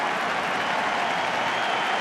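Baseball crowd at World Series Game 2 applauding pitcher John Lackey, a dense, steady roar of clapping and cheering from a large stadium audience.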